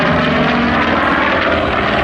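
A WWII-era American military propeller aircraft flies past at an airshow at Melun-Villaroche, its engine a loud, steady, close roar that fills the whole moment without a break.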